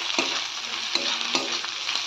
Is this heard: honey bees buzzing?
no